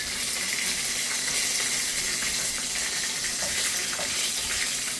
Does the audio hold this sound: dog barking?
no